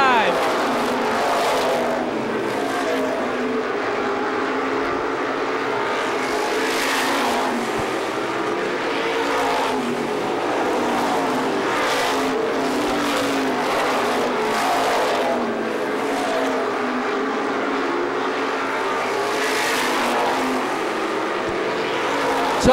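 Supermodified race cars, 350 class, race at Star Speedway, their engines producing a continuous loud roar with surges as they pass, while an announcer talks over the noise throughout.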